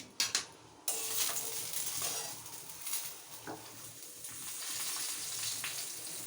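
Vegetarian food cooking in white oil in a home kitchen, with a steady close sizzle under sharp clinks of utensils against a pot and some scraping and stirring, and no voices.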